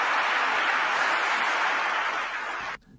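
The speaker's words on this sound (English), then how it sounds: "this clip, Elon Musk is clapping normally" Clapping from a played news clip with Elon Musk applauding, a dense burst of many hands at a steady loud level that cuts off abruptly near the end.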